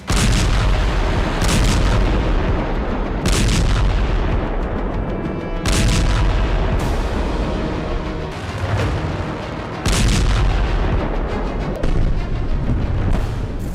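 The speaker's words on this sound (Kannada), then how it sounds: "ಒಮ್ಮೆಲೆ ನುಗ್ಗಿದ 50ಕ್ಕೂ ಹೆಚ್ಚು ಫೈಟರ್ ಜೆಟ್ಗಳು ಇರಾನ್ ನಾಯಕ ಖಮೇನಿ ನಿವಾಸವನ್ನೇ ಧ್ವಂಸ ಮಾಡಿದ್ವು." A series of heavy, booming bomb blasts from a fighter-jet airstrike, about six of them, rolling out one after another amid continuous deep rumbling.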